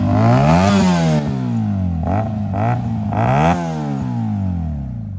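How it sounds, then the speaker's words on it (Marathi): A Benelli 300 motorcycle engine revs up close and loud, with several throttle blips rising and falling over a steady idle, and no voices. "हे आहे बेनेली 300 आहे, जे दाखव. हिचा पण खूप प्यारा आवाज आहे, बघू शकता"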